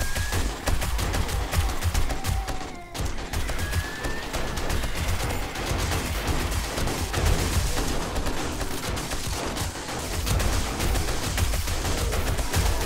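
Sustained coil rifle fire in 7 Days to Die during a large night horde, a dense steady barrage of loud shots with brief tonal whines over it, no speech.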